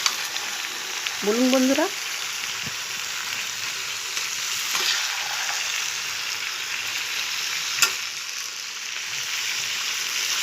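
Malabar spinach fries in vetki fish oil in a pan, giving a steady close sizzle with a few stirring scrapes and taps, while a voice speaks briefly over it early on.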